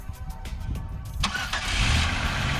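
A 2003 Pontiac Grand Prix cranks with a rapid whirring starter for about a second, then catches and settles into a steady, close idle.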